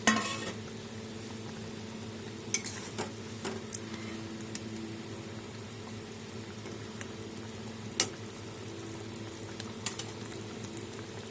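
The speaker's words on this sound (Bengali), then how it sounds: "ঝোল আমার ফুটে উঠেছে।" Bengali fish curry gravy with pieces of pona fish and fried eggplant boiling in a pan, a steady close bubbling simmer with occasional sharp clinks and pops.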